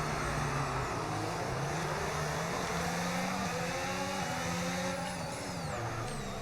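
Race cars in the F1 25 video game launch off the starting grid together on hard tyres, their engines whining loud and close as they climb steadily in pitch through the gears.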